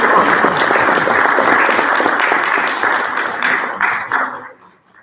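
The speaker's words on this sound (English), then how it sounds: "Another round of applause for AJ." Audience applause at a Bound Brook school district board meeting: dense, sustained clapping from a roomful of people, holding steady for several seconds, then thinning out and fading to quiet.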